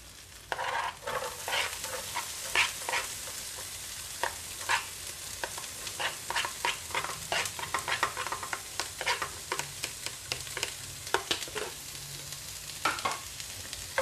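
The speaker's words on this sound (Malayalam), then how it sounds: "ഉള്ളി ചേർക്കാം." Onions for a masala dosa potato filling fry in a hot pan with a steady close sizzle, while a utensil scrapes and stirs through them in quick, repeated strokes.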